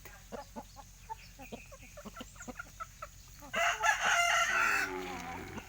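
A Shamo rooster, a big breed, crows loudly and close for about two seconds after a run of scattered clucks and scratchy farmyard noises.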